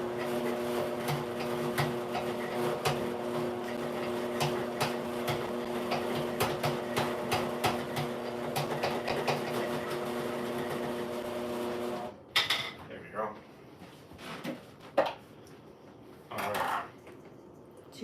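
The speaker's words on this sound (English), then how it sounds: "let's blend this" A blender whirs steadily as bread is blended into breadcrumbs in a home kitchen, its motor hum running for about twelve seconds before cutting off, followed by clattering and bumping sounds.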